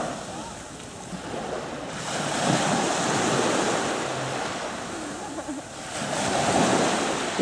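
Sea surf washing onto the shore at a beach on the coast between Fuengirola and Benalmadena, with steady wind buffeting the microphone; the roar swells and eases in broad waves with no speech.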